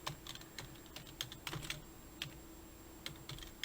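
Quick, irregular keystrokes on a computer keyboard as a UPC barcode number is entered, crisp clicks arriving in short bursts with brief pauses, fairly quiet and close with no talking.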